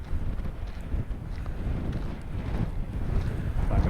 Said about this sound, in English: because it's quite windy